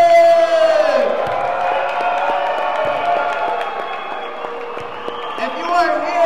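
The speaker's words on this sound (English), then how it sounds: "if you're here for Team Hamtramck, clap it up for Team Hamtramck!" A crowd clapping and cheering for the visiting team before a charity basketball game between Hamtramck and Dearborn, loud whoops and shouts over applause that dips slightly midway, then swells again.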